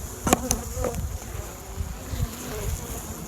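Agitated honeybees buzz around an opened hive in February, a dense, continuous drone close by, with a couple of sharp clicks near the start.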